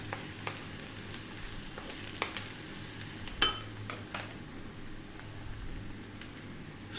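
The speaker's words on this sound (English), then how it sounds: "we're now going to drop in our eggplant or aubergine or whatever you call that" Eggplant frying with onions in a pan gives a steady, low-level sizzle with occasional crackles and a few sharp stirring clicks, heard alone.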